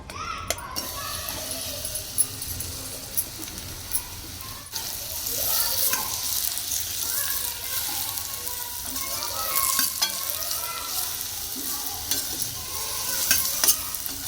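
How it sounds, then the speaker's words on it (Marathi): Dates fry in half a spoon of ghee in a pan with a constant close sizzle and repeated spatula scrapes and clinks, and faint voices in the background. "इथे अर्धा चमचा तूप घेऊया आता त्यामध्ये आपण खजूर तळून घेऊया"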